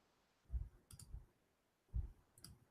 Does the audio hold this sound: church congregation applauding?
no